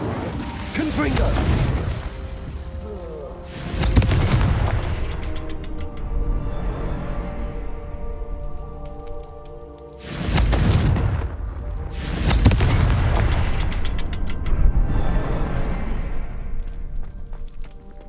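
Confringo fire-blast spells explode in Hogwarts Legacy gameplay, heavy booming bursts in two pairs separated by ringing, decaying tails and a lower rumbling bed, loud and close.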